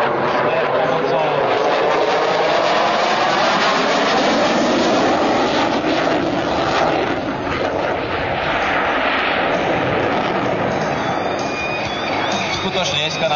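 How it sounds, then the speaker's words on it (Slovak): A Saab JAS 39C Gripen fighter jet flies at an air show, its loud, sustained jet roar rising and falling as it passes, with an announcer speaking over it and crowd noise faintly underneath. "V současné chvíli pilot odbržuje letoun na minimální rychlost"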